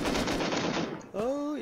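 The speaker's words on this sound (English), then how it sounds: "I was just killed by someone with an M249." M249 machine gun in the video game Rust firing a fast, steady burst of rapid loud shots that stops abruptly, followed by a voice speaking.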